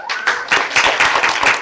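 A crowd at a school TLM fair prize ceremony applauds a primary school's second-place win with dense, steady clapping, close and fairly loud throughout.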